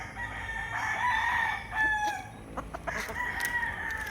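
Several gamefowl roosters crow in drawn-out calls on a game farm in Batangas, Philippines, overlapping with clucking hens, moderately close outdoors with a steady background hum.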